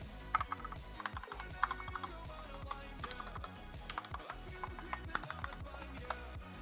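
Rapid typing on a Madcatz S.T.R.I.K.E 6 mechanical keyboard, a budget 60% board with lubricated, stabilized keys, produces dense, steady clacks close up and moderately loud, with no talking over it.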